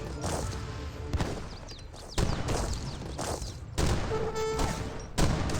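Volleys of musket gunfire in Age of Empires 3, several bursts of crackling shots spread through the battle with thuds between them, fairly loud and steady with no talking.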